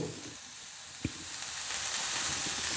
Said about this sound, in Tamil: இப்போ நம்ம சேர்த்த பொருள் எல்லாம் ஒரு 10 நிமிஷம் நல்லா வதங்கி வரட்டும்